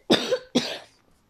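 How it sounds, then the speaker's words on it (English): Two sharp, close coughs follow each other about half a second apart, each a harsh burst that trails off, followed by quiet. "I needed to cough"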